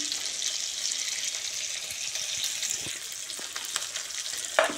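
Chopped onions and about ten cashews fry in a pan with cumin for a paneer matar masala base, a continuous moderate sizzle with occasional stirring clinks and a sharper knock near the end.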